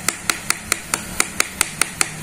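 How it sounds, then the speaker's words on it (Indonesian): A rubber mallet taps an air rifle part into place on a PCP Predator bullpup rifle, sounding as about eleven crisp, evenly spaced knocks in a steady rhythm, close and clear. "Sambil didorong menggunakan palu karet apabila tenaganya masih kurang."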